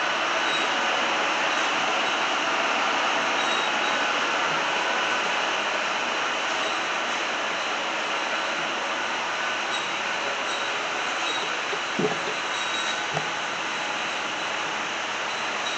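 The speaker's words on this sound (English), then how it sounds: "the water level hitting a wicket gate, and the wicket gate's vibrating" Water in a hydro turbine strikes a vibrating wicket gate, giving a steady, loud broadband rush with a dense metallic hum that persists throughout, broken by a couple of brief sharp knocks near the end.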